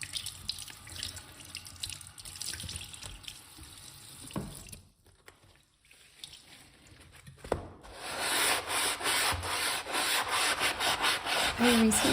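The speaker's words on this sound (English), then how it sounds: "I recently started using this Scrub Mommy, and it is great." A Scrub Mommy sponge scrubbing during a whole-house cleaning session: repeated close rubbing strokes, mixed with running tap water and sink washing sounds, with a brief quiet pause midway.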